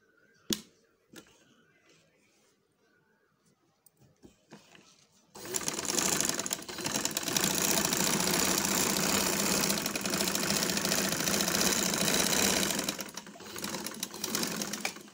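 A home sewing machine runs a continuous stitching line through fabric during beginner practice, a steady close mechanical whirr lasting several seconds after a quiet lead-in, then stopping.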